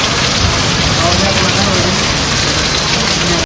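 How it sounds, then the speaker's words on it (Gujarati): Heavy rain pouring down in a dense, loud, continuous hiss with no break, which cuts off sharply at the end. "બહુ આવે છે વરસાદ"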